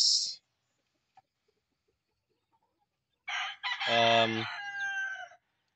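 An Asil gamecock rooster with white legs crows once, loud and close, after a short cluck at the start and a few seconds of near silence.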